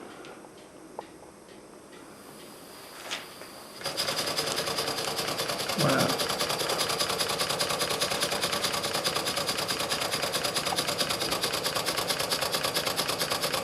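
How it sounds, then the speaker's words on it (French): A Sulzer marine diesel engine built in Winterthur, Switzerland, with Stephenson link reversing, is started after a quiet pause, then runs close and loud with a rapid, even mechanical clatter; a voice speaks briefly. "Bon, je vais vous mettre ce moteur en route."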